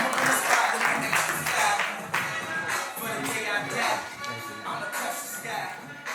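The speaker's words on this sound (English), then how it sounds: "So if we want to give a round of applause for our next keynote presenter here, Angel Quiroz." An audience at a business branding conference claps for a keynote presenter taking the stage, a dense, sustained burst of applause that fades slightly toward the end.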